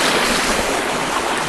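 Steady broadband rush of river water flowing nearby in a winter setting, continuous and fairly loud with no breaks or voices.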